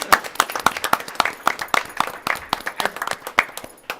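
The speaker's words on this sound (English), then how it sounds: "Can we have a round of applause for our amazing..." Audience applause at a Coeur d'Alene city council meeting celebrating the Day of the Girl: a steady burst of many hands clapping for about four seconds, close and fairly loud, with no talk over it.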